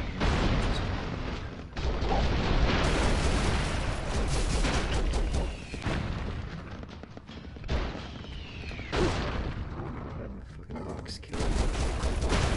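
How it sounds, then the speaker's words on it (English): Rapid bursts of gunfire and explosions from Broforce crackle continuously, dense and loud with heavy thumps and brief lulls, while people talk over it at times. "Are they just firing on their own dude?"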